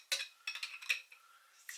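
Spoon scooping mayonnaise into a bowl for homemade tartare sauce, several light clinks and scrapes of metal against the bowl, close and quiet, spaced irregularly.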